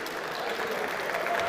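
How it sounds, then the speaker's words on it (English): Applause from spectators at a university engineering design competition, a short, fairly faint patter of clapping from a modest crowd, steady and slightly distant. "Give them a round of applause."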